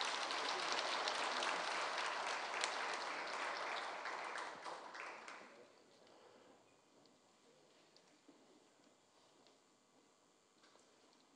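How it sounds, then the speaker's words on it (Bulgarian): Audience applause at a Bulgarian awards ceremony, moderate clapping for about five seconds that then tapers off into faint scattered claps and quiet room tone. "Аплодисменти за Десислав Димитров"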